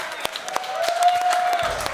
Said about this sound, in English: Come on, guys. Round of applause to you all.